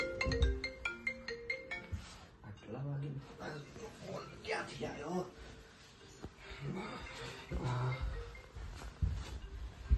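A mobile phone ringtone plays a melodic run of electronic notes near the start, mixed with people talking over a busy indoor background.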